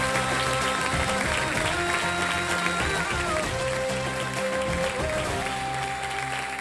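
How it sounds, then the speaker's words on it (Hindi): A studio audience on a game show breaks into loud, continuous applause that fills the whole stretch, with music playing underneath. "तो चलिए इन तीनों के लिए बहुत जोरदार तालियां बजाएं."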